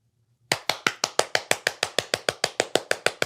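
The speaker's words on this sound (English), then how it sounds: "I'm clapping for myself." Hand clapping during a heated debate, about seventeen sharp, evenly spaced claps in a steady quick rhythm, loud and close, following a brief quiet moment with no talk over them.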